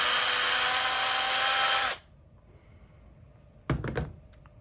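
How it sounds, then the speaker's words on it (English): A power drill whines at high pitch for two seconds while boring a hole in a resin keychain, then stops, followed by quiet and a couple of brief clattering knocks. "So that's how I drill that hole in there."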